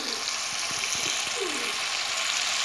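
Onions and tomatoes fry in a pan for vegetable biryani, giving an even broad sizzle with a few soft stirring knocks near the start, no voices.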